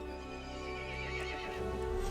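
A horse neighs loudly in the video game Resident Evil Village, a sustained, strained whinny with a dense harmonic cry lasting the full two seconds, close and continuous over faint hoof-like clopping.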